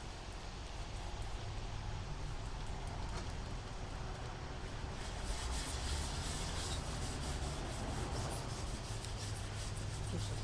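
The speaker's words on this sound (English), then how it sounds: "Just a quick rub down." A new fuel tank being rubbed down by hand, producing a continuous, even abrasive scrubbing that grows slightly brighter and busier in the second half, with no speech.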